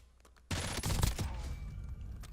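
Close, loud burst of gunfire in Black Ops 6 at a headshot, with a sharp onset followed by dense rapid shots that decay into a lingering rumble, no talk.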